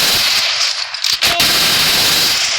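Gunfire in a shooting video game, with a loud close burst of rapid shots followed by continuous noisy game audio.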